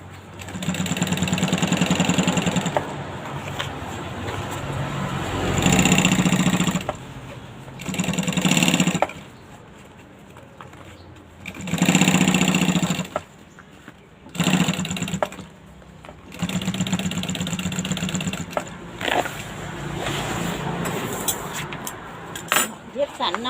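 A sewing machine stitches a curved seam in bursts of close, steady mechanical whirring, stopping and starting several times between pauses. Someone speaks softly during the quiet gaps.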